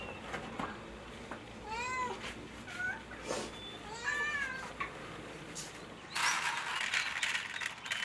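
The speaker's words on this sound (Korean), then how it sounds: "이곳을 집처럼 드나드는 길고양이들이 어느새 15마리로 불어났습니다" Several stray cats meowing at a house where they come and go, repeated short mews spread across the clip over a steady background hiss, ending in a louder noisy stretch.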